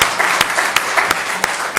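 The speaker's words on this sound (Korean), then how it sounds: "우리 박수로 하나님께 영광 올려드리겠습니다" A congregation claps together during a church service, a dense, steady round of applause that lasts under two seconds, with a few sharper individual claps standing out.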